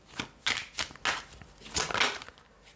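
Tarot cards being shuffled up close, a series of soft papery riffles and flicks in uneven bursts, with no talking.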